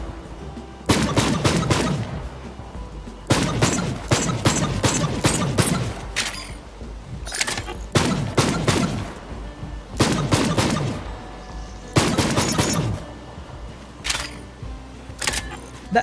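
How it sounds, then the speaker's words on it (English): Bursts of shots from a rare exotic gun in Borderlands 3 spell out the old Mario theme tune, clusters of crisp bright pops arranged in a melodic rhythm, separated by short pauses. "That distinct sound of Mario's old school theme tune."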